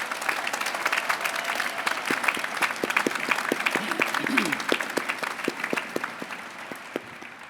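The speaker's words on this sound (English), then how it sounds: "Please join me in a round of applause for the Army Band." A graduation audience applauds the Army Band at a university's final exercises, giving a dense, sustained crowd clapping with sharp individual claps standing out, then thinning slightly toward the end.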